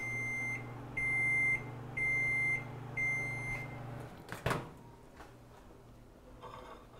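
A microwave oven heating a pudding hums steadily while four evenly spaced beeps sound, followed by a door clack and quiet room noise.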